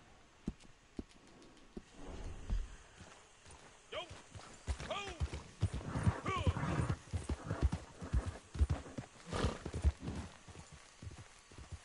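A horse's hooves clip-clop in Red Dead Online, uneven and close, with a short whinny in the middle and a voice talking faintly underneath.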